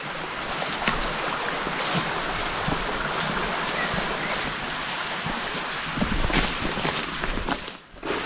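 Water rushes over a dam on a wild river, a dense steady roar of flowing water close by, with gusts of wind buffeting the microphone.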